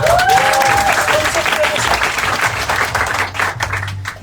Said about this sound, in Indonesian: Aplaus dulu dong buat kita.